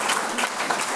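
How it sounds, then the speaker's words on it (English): A forum audience at a Global Gateway session on critical raw materials bursts into applause, a dense, steady wash of many hands clapping close and fairly loud, with no voices over it. "she deserves a big round of applause that she's doing that"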